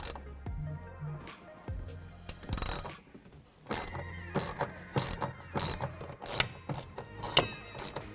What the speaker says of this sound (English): We're going to use a 10mm socket to get this pulled off.